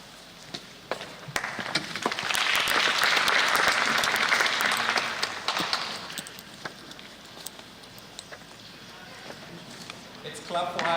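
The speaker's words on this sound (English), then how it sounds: "Let's clap for her." Audience applause at a Kenyan morning television show, a broad swell of clapping that builds, holds loud for a few seconds and then tapers, with talk over parts of it.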